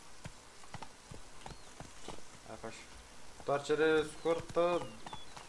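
The horse Roach's hooves clip-clop in The Witcher 3 in a steady, moderately close rhythm, while voices talk over the hoofbeats.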